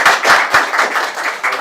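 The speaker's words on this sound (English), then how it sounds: "Just give it a round of applause for this time." Brief, close applause from an audience at a veterans and cadets mentorship program kickoff, a few loud rhythmic claps swelling and fading within a second and a half.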